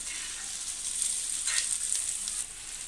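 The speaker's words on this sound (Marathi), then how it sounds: "व्यवस्थित परतून घेऊया कांदा आपल्याला गुलाबी होईस्तवर परतवायचा आहे" Onion sautéing in oil in a pan, a steady, bright sizzle that swells slightly midway, close and continuous with no voices.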